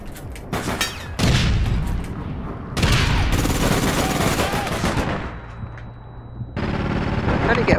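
Automatic gunfire in APB Reloaded, loud rapid bursts of shots in several stretches with brief pauses between, while players talk over the shooting.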